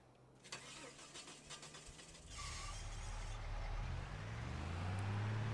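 Truck engine cranking and catching in Farming Simulator 25, settling into a steady rumbling idle that grows louder and fuller, heard alone without talk.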